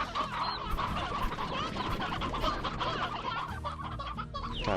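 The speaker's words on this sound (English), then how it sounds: "There are a lot of roosters here now." Many roosters cluck and squawk together on a farm in the video game Slime Rancher, a dense, busy chorus of overlapping bird calls at steady loudness with no pauses.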